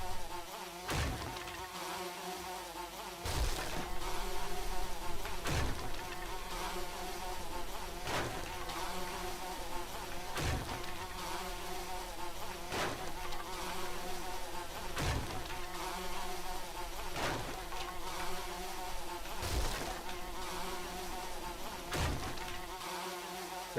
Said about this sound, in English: Very noisy bees.